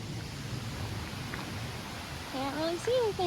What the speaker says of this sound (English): This hike walks along a creek with many little waterfalls